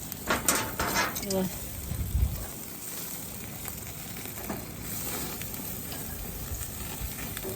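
Marinated steak sizzles on a grill as a faint, steady crackle. A few utensil clinks and scrapes come early, and a voice speaks briefly over it.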